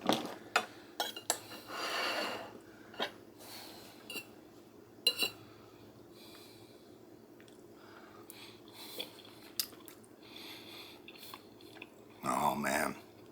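Someone eats rehydrated freeze-dried Japanese-style golden curry, three years old, from a bowl: close chewing and biting with clinks of cutlery against dishes and brief spoon taps, steady and near.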